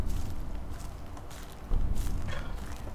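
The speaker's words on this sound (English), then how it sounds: "I swear I just heard extra footsteps" Footsteps crunch through a dark forest in the Slender horror game, a steady muffled tread over rumbling ambient noise, with a heavier step toward the end.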